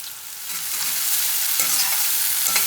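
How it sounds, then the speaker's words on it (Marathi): Broccoli, mushrooms and red and yellow bell peppers stir-fry in a pan over high heat, giving a steady, loud, close sizzle with a few faint stirring scrapes and no voices. "मोठ्या गॅसवर आपल्या ह्या भाज्या थोड्या फ्राय करून घ्यायच्या आहेत."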